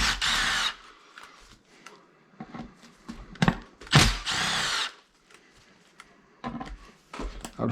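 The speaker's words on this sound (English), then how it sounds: "I'm using a 3mm speed hex bit." A power drill with a 3mm hex bit backs screws out of a Losi DBXL-E 2 RC car. It makes several short, loud whirring bursts, with quieter clicks and handling noises between them.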